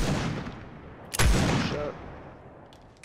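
A single heavy burst of gunfire from a hard-recoiling gun in a shooter video game booms out over steady background noise and then fades, and a voice briefly says a word.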